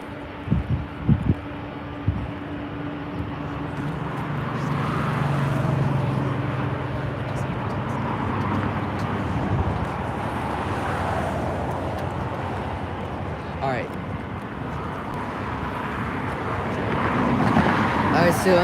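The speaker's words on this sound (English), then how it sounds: "this is LOT Polish Airlines Flight 22 on the move" A LOT Polish Airlines Boeing 787-9 Dreamliner, Flight 22 bound for Warsaw, taxis with a steady, fairly loud jet engine rumble that holds throughout, mixed with wind and broad roadway-like noise.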